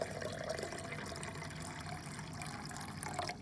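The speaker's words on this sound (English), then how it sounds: "I'm going to pour half of that out into this beaker." A 1 molar salt solution pours steadily into a laboratory beaker up to the 500 millilitre mark, a continuous close liquid splash and trickle with no talk over it.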